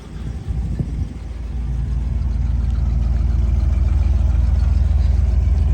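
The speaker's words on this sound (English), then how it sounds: "Nice little rumble from the dual exhaust." A 1957 Imperial Southampton hardtop's engine idles with a steady, low dual-exhaust rumble. The sound builds after a short start and then holds loud and close throughout, with no talk over it.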